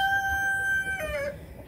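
A rooster crows once nearby, a long drawn-out call that rises and then falls away at the end, alone over a faint low background.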